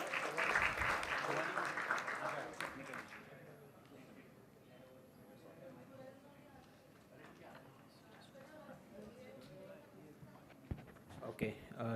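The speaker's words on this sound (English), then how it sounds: "round of applause for everyone who's presenting." An audience at a hackathon showdown claps for the presenting teams in a loud burst that lasts a few seconds, then thins out beneath room chatter and background noise.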